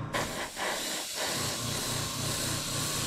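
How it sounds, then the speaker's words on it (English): An airbrush sprays gloss paint onto the cab of a Monogram 1955 Ford rat rod wrecker model kit, giving a steady, close hiss that runs unbroken for about three seconds with a faint pulsing underneath. "I got the hood done, shooting it through my airbrush."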